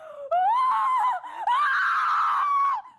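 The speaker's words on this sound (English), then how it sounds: "blood-curdling scream" A blood-curdling scream from an online video game mystery plays loud and close, two long, piercing, sustained shrieks with a brief gasp-like break between them.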